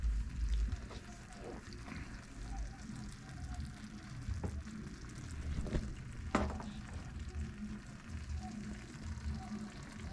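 Coconut milk goes into a moqueca pan of sizzling tomato and onion, cooked outdoors on a kayak trip, giving a low steady frying hiss with occasional soft taps and one brighter clink, a voice speaking faintly underneath.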